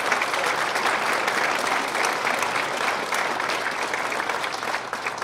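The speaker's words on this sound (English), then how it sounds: "If you could please give them and the rest of the students a round of applause" Audience at a school Christmas program applauds the students and crew, a dense, steady wash of clapping held at even loudness for about five seconds before easing slightly at the end.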